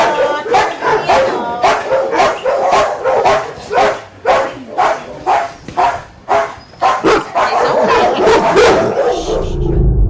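A dog at an animal shelter barks loudly and close by, roughly a dozen sharp barks in a steady rhythm with brief yips between them, and no talk over them.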